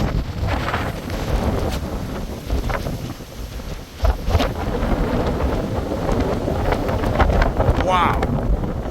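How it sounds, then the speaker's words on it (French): Strong wind buffets the microphone in loud, gusting roars outdoors near an abbey, with a person speaking briefly over the rushing noise. "Ah, il y a un vent."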